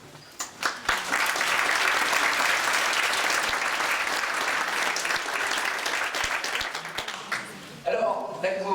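A crowd at a BNI business group launch event claps in a full, sustained round of applause that swells quickly and holds steady, then tapers off as a voice starts speaking near the end.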